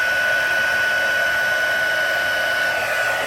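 Heat tool blowing hot air over snowfall puff paint on a stamped paper card, a loud steady close whir with a constant high whine, unbroken throughout.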